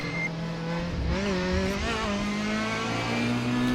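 A DTM 2002 race car in the Raceroom racing game, engine revving hard and continuously close up, with tonal pitch sweeps as it accelerates and shifts, plus faint tire squeal, loud throughout.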